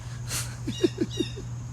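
A bird calls nearby in a short series of four or five quick chirps, fairly clear over a steady low hum and faint background noise.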